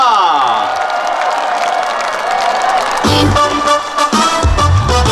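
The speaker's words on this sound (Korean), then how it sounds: "여러분들의 큰 그 박수와 함성으로 모시겠습니다." Crowd at a city citizens' day celebration performance in Pocheon greets a performer with loud, sustained applause and cheering, dense broadband clapping with shouts running throughout and swelling near the end.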